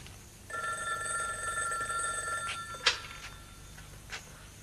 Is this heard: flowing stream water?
no